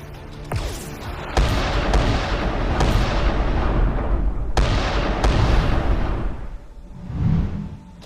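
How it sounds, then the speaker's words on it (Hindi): Smugglers firing guns from inside a ship on a beach, heard as a rapid series of loud, sharp gunshots and booms spread across the scene. Each shot rings out with a reverberant tail, and no speech cuts through. "उधर शिप के अंदर से स्मगलर लगातार फायरिंग कर रहे थे।"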